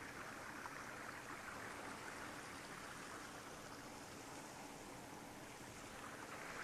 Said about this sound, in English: in the background, you hear the churning of the ever-flowing water